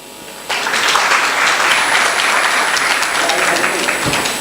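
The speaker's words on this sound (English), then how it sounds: "I think they deserve another round of applause for this lovely performance." A crowd at a World Vision Somalia campaign launch bursts into loud, dense applause after a children's song, starting abruptly and sustained for several seconds, with a few voices mixed in near the end.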